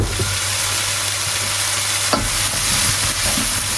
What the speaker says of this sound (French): Et là on voit que ça commence à bien chanter et tout.